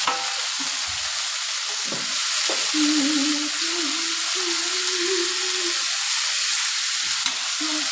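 Green beans fry with mustard seeds and chilli in a hot pan, a dense steady sizzle running throughout with a few scraping stirs, close by, with no talking.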